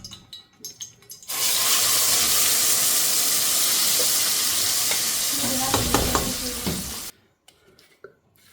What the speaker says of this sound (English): Now pour in all the blended tomato pulp.